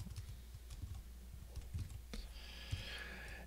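Keys clatter in quick, irregular bursts of typing on a computer keyboard, faint and close. A brief hissy noise follows near the end, and no one speaks.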